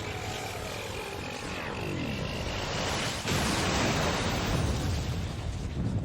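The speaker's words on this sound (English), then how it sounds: "That's a very dusty explosion." A huge mechanical weapon, Ultimate Weapon in Final Fantasy XIV, blows apart in a dusty explosion: a sustained, loud roaring rumble with a sweeping whoosh, swelling into a heavier blast about halfway through that keeps booming to the end.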